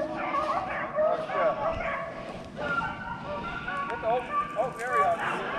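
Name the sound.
hunting dogs barking while chasing rabbits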